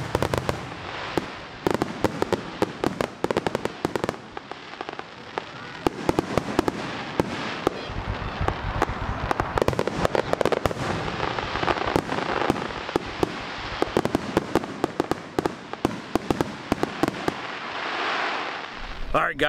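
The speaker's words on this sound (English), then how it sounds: "here's some fireworks for you guys to enjoy" Fireworks at a July 4th show at Yogi Bear's Jellystone campground in Williamsport, Maryland crackle and pop in dense, continuous bursts with many sharp bangs, loud and sustained throughout, with crowd voices faintly mixed in.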